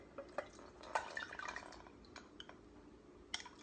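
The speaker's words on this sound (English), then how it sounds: "we're going to strain it in here to get the liquid off." Liquid draining through a kitchen strainer: sparse, faint drips and short trickles, mostly in the first two seconds, with a final drop near the end and no voices.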